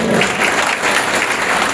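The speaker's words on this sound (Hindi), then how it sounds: "जोरदार तालियां बजा दो" An audience claps loudly and continuously at a literature festival in Chittorgarh, Rajasthan, a dense wash of applause filling the whole moment with no speech over it.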